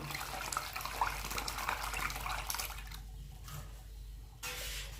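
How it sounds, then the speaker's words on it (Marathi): Water splashes and pours steadily into millet batter in a container, a continuous wet rushing that dips briefly before resuming. "आपण पाणी घालणार आहोत हे पा भरपूर पाणी घालायचं"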